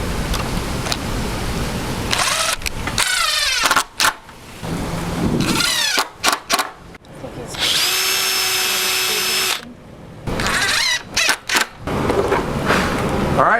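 Power drill driving screws into a metal bracket on a rail for bunk beds inside a bus conversion, several whirring bursts of varying length at close range, with a long steady run mid-clip.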